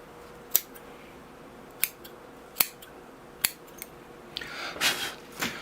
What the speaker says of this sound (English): I'll change to my curved scissors so I can kind of round the tops of them